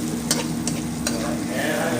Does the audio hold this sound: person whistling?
no